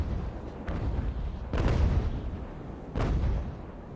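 Naval cannons firing in Ultimate Admiral: Age of Sail, a battle with distant rumbling booms and two heavy blasts about a second and a half apart, each trailing into a low roar.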